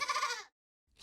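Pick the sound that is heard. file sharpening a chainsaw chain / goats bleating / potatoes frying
goats bleating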